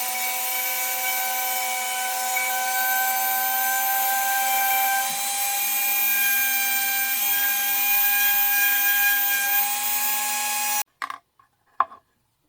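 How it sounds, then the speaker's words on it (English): A Dremel rotary tool grinding a recess into deer antler: a steady high-pitched whine with a grinding rasp, held for about ten seconds before cutting off, followed by a few brief knocks and handling sounds. "I can come back in with my Dremel and grind this out in through here"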